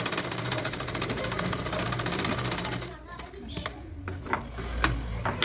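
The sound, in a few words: sewing machine stitching a hook strip onto a blouse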